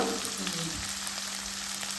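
Cumin seeds and asafoetida hit hot oil for a tempering, a loud, dense, close sizzle that holds steady throughout, with a faint hum beneath and no voices.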